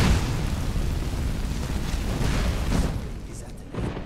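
Fire spell blasting in Skyrim VR, a continuous roaring whoosh that holds steady and loud for several seconds, dipping briefly near the end before flaring up again.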